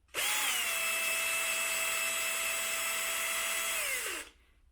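A power tool runs steadily for about four seconds, backing out a 10 mm screw on the transmission pan of a Corvette C7 with an 8L90 gearbox, one continuous near whine that stops abruptly, with no talk.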